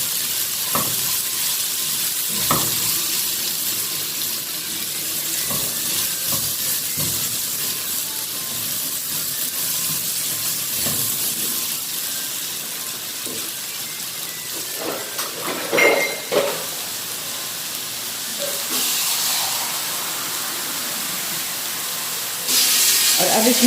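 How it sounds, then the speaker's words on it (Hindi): Potatoes for aloo ki sabzi fry in a pan with a steady, loud sizzle, punctuated by scraping and tapping as a spoon stirs them now and then. "चलिए इसको थोड़ा सा हम फ्राई करेंगे।"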